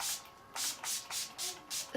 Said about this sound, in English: I'm going to go in with my Urban Decay All Nighter Makeup Setting Spray and just spray that all over my face